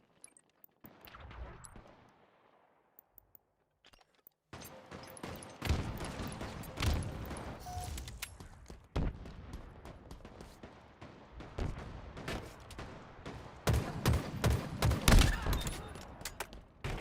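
Rapid bursts of gunfire in a Halo match, loud volleys and scattered shots crackling over several seconds after a quiet start, with faint voices beneath.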